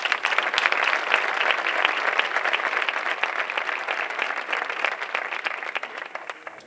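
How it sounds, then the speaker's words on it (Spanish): An audience applauds at a flamenco concert in Almonaster: dense, steady clapping from a full crowd, loud and sustained throughout and easing slightly toward the end. "Un fuerte aplauso,"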